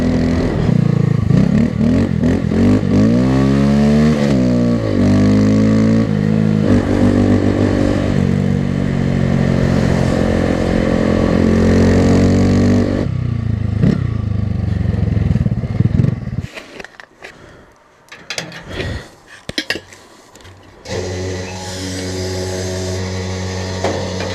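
A motorcycle ridden on snow for drifts and wheelies revs hard and close, with its engine pitch climbing and falling in repeated sweeps, then turns to rougher bursts and clattering scrapes as it spins on the snow.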